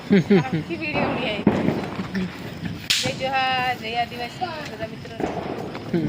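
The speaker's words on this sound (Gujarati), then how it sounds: "રમકડા ફટાકડા ફોડ્યા રાખે" Sharp toy firecracker bursts crackle and pop amid lively family chatter at a Diwali celebration, with several loud snaps scattered through the scene.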